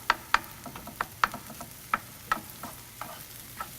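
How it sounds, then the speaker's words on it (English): Cheese crumbled into Mexican street corn and stirred with a utensil, giving a series of sharp scraping taps and clicks roughly every half second, close and fairly quiet, with no talking. "We'll stir this."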